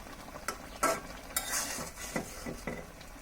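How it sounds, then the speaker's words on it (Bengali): Broccoli being stirred in a cooking pan: a steady soft sizzle runs under about half a dozen sharp scraping clatters of a utensil against the pan, close and moderately loud, with no talking. "এখন এটাকে ভালোভাবে নাড়াচাড়া করে আমরা এটাকে নামিয়ে ফেলবো।"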